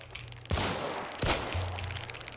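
Gunfire in a Battlefield-style shooter video game, a few sharp bursts of rapid shots cracking over a constant low engine-like drone, loud and close, with no one talking.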